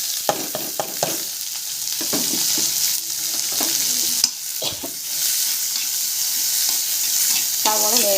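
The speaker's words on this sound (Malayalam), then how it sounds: "സവോള ലേശം ഉപ്പും മഞ്ഞൾപ്പൊടി ഇട്ടിട്ട് വഴറ്റി കൊടുക്കുക" Onions sautéing in a pan with salt and turmeric, a steady close sizzle broken by repeated scraping, clattering spoon strokes against the pan, with no talk.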